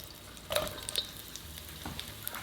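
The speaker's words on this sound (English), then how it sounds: "garlic, and scallions. Stir fry until aromatic, 2 minutes." Ginger, shallot, garlic and scallions stir-frying in reserved pork belly oil in a pot over medium heat, with a soft steady sizzle, a few brief scraping stirs and light clinks close by, no talk.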